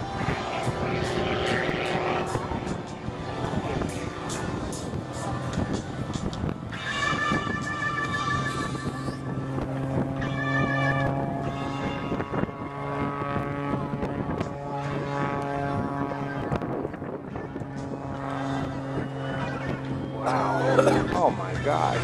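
Aerobatic propeller airplane flying slow maneuvers at about 100 knots at the Tico Airshow, its engine drone rising and falling in pitch as it passes, mixed with crowd noise and an announcer speaking over it.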